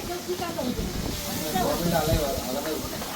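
Soybean chunks fry in hot oil outdoors at a neighbourhood picnic, making a continuous hissing sizzle. People talk over the frying throughout.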